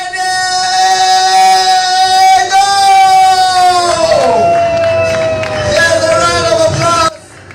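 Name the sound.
crowd applause and cheering at trade fair launch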